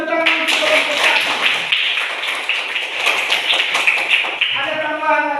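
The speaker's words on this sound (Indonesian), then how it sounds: "mari kita berikan tepuk tangan untuk kelompok satu" Classroom applause for a student group, dense steady hand clapping from a room of pupils, close and fairly loud, with a few voices mixed in throughout.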